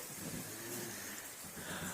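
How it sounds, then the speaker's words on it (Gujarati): Steady rain hisses evenly throughout, a continuous wash of falling drops with a faint low rumble underneath. "વાવેતર થઈ જાય એવો વરસાદ આવી ગયો છે"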